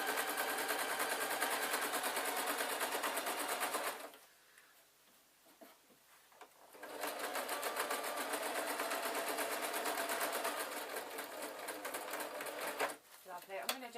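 A sewing machine runs steadily stitching a canvas denim-style skirt, a fast buzzing rattle that stops for a few seconds mid-way, then resumes in a second long run before cutting off briefly again near the end.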